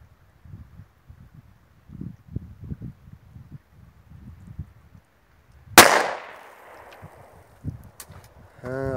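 A single sharp gunshot fired at a target rings out, preceded by low muffled voices talking, and the speaking continues after the crack.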